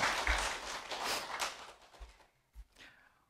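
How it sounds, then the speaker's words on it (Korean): Brief applause from a Korean church congregation thanking and blessing a deaconess, moderately faint and dense at first, then thinning into a few scattered claps before quiet. "우리 권사님께 감사의 박수 또한 축복의 박수 하겠습니다."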